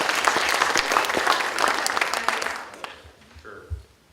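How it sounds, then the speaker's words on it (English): Audience at an evening college showcase event applauds loudly and steadily for a few seconds, the clapping thinning and fading out near the end. "Can you give her a round of applause,"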